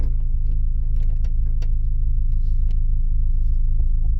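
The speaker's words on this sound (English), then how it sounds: "you can go for 2 or 3 miles, 20 miles an hour, just coasting" A Honda car coasting along a road at about 20 miles an hour, heard from inside as a steady low rumble with faint road noise and small rattles, no voices.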